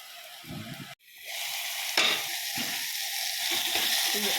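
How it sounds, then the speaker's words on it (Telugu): Mint and coriander leaves frying in a pan, a steady bright sizzle that swells after a short pause as the leaves are stirred, with soft scrapes and clinks close by. "పుదీనా వేయించుకోవడం ఇంతే"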